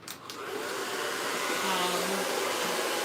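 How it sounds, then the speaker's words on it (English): A blow dryer drying hair on a custom closure wig unit switches on and runs as a loud, steady, close-up whir that holds constant. "Now I'm going to use my blow dryer."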